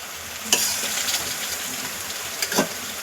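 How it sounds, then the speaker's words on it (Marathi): Goat tripe stir-fries in an oily onion-spice masala with a soft, steady sizzle, punctuated by a few spatula scrapes and stirs. Nobody speaks. "आपल्याला ही नुसती फ्राय करून घ्यायची आता आपण ही पूर्ण मसाल्यामध्ये व्यवस्थित परतून घेऊया"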